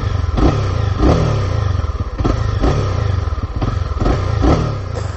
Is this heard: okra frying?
no